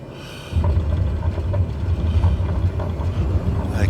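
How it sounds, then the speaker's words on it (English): A light aircraft doing a touch-and-go near a slope and trees in Tasmania, Australia, gives a steady low engine drone that surges louder after a quieter start and holds with wind rumble throughout. "We'll do another touch and go."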